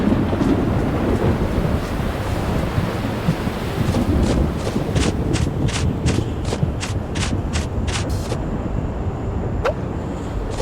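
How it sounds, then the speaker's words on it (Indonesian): Rain in the farming video game Harvest Moon: Home Sweet Home, a loud, steady broadband rush of downpour with a run of faint, evenly spaced ticks layered on top partway through. "Hujan ya."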